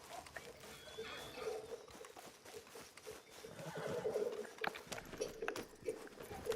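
In the Red Dead Redemption 2 video game, a horse whinnies and neighs as it comes when called, with hooves clip-clopping closer over faint background sound.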